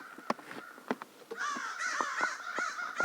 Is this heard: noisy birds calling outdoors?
yes